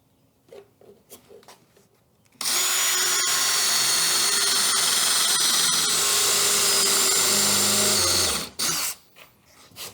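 A power drill driving screws into soft wood on a boat transom, a loud steady whine running for about six seconds after a few light knocks, then stopping with a short final burst.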